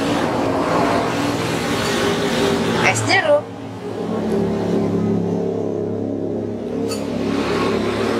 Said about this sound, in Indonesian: Tapi agak berisik suaranya karena ini pas banget di depan jalan raya lokasinya.